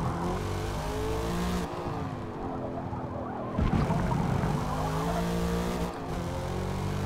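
Engine of a Corvette racing in Forza Motorsport, revving loudly and steadily with a clear drop and rise in pitch at gear shifts; tire noise mixes in, with no talk over it.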